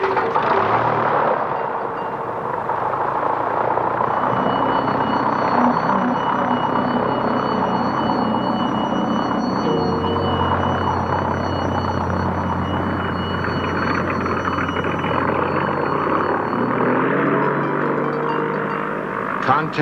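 A small plane's engine drones steadily through the air, a loud continuous hum with a rough, throbbing low end.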